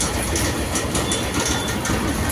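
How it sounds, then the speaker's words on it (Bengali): A Kolkata tram rolls along its rails, a loud, dense rumble with rhythmic wheel clatter and rattling carriage noise throughout, steady and close, with no talking. "ট্রাম এসে গেছে, মৌলি ওপরে উঠে গেছে, এবার আমি উপরে উঠছি।"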